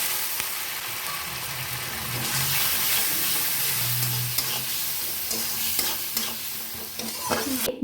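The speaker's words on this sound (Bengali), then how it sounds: "জল দিয়ে মশলাগুলো খুব ভালো করে কষিয়ে নিচ্ছি।" Spice paste with cumin powder and a little water fries in a pan for a bitter gourd curry, making a wet, bubbling sizzle over nearly eight seconds with scrapes and clinks from stirring but no voices.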